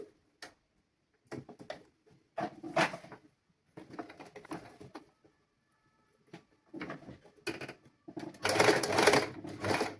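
Sewing machine stitching a frock at close range, running in short irregular bursts separated by pauses, with a longer, louder run near the end.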